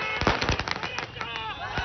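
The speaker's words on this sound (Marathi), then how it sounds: "बीडमध्ये फटाक्यांची आतषबाजी होते." Rapid crackling bursts of celebratory firecrackers popping in dense, irregular volleys, loud and close, with a crowd murmuring beneath, in Beed, India.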